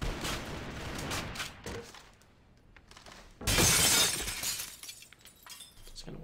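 Gunfire from pre-firing in the AVA shooter during an ESL 5on5 Demolition match, a loud burst of rapid shots bursting out mid-clip alongside sharp cracks, with commentary talk running beneath and around it.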